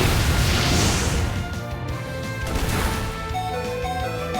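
A big blast from the Pokemon move Explosion in Pokemon Let's Go, a loud booming crash at the start that rolls into a decaying rumble and sparkling ringing tones as it fades.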